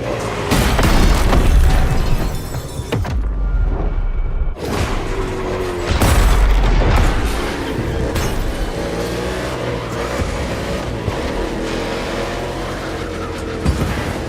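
Race cars roar through a race in The Crew Motorfest set in Hawaii, with loud engine drones, revving surges and heavy booming impacts layered over a dense, continuous mix.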